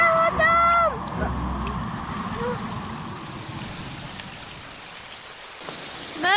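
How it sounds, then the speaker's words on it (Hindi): A steady hiss of rain falls throughout, following a burst of shouting voices at the start. "अरे बारिश।"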